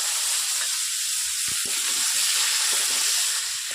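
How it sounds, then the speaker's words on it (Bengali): Vegetables such as cauliflower and potato fry in oil in a pan just used for fish, a loud, dense, close sizzle with a few stirring knocks, heard without speech. "এবারে এক এক করে এগুলোকে ভেজে নেওয়া হবে"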